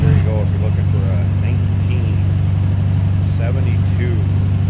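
A 1972 Porsche 914/4 engine runs at a steady idle with a loud, even low hum close by, while someone talks over it throughout.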